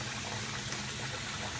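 Japanese rice being washed in a pot with running water, a steady close rush of splashing and pouring liquid with no pauses.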